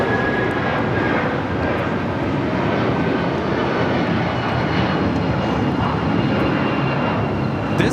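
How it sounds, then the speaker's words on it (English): A United Airlines Boeing 757-200, flight 1939 to Newark, takes off at LAX with a loud, continuous engine roar and a thin whine, steady throughout with no voices. "1939 taking off to Newark on the 757-200."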